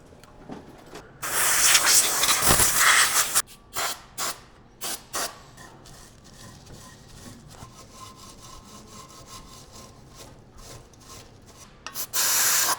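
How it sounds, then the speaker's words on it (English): Hand sanding or scuffing a surface by hand to rough it up and clean off grease before applying JB Weld, heard as loud close rasping strokes in bursts, then quieter intermittent scraping and a final strong burst. "My goal here is to rough it up a little bit and to get any grease or grime that may prevent this JB weld from doing its best job."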